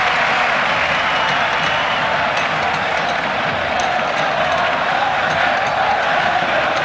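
A packed indoor arena crowd at the 1996 Futsal World Cup final between Spain and Brazil cheers and applauds in a dense, continuous roar that holds steady for several seconds.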